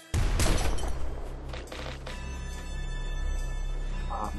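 Disc gun fire in the Nuclear Throne video game: a loud burst of shots at the start, then rumbling impacts and a busy, sustained wash of game noise without speech.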